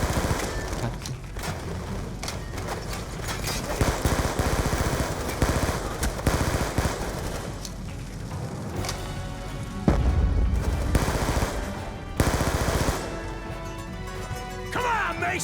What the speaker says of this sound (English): Uzi is my favorite submachine gun in this game.